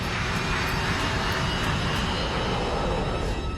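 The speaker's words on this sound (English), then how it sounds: "727 is seconds away from leaving the ground. 80 knots." A Boeing 727 jet accelerates down the runway for takeoff, its engines making a loud, dense and unbroken roar that holds steady for several seconds, with no voices over it.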